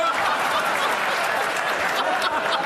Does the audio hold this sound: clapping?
yes